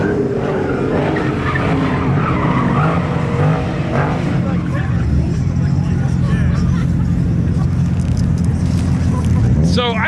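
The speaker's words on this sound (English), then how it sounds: "So there's a G8 over here doing donuts." A Pontiac G8 spins donuts at a car meet, its engine roaring loud and close while tires squeal and skid continuously, with crowd voices talking throughout.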